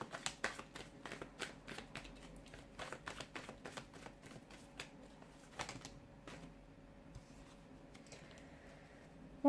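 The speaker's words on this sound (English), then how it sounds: "give the cards a shuffle" Playing cards are shuffled in quick runs of crisp flicking clicks, close and fairly quiet, then the rustling thins out and stops.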